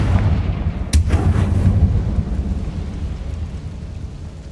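A Confringo explosion spell in Hogwarts Legacy goes off as a single loud, close burst with a sharp crack, then a rumbling low roar that slowly fades over several seconds, with no voices.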